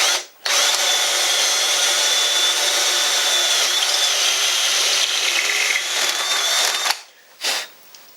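A power drill bores into wood, whirring loudly and steadily for several seconds while making a rifle stock, winding down, then gives a short final burst.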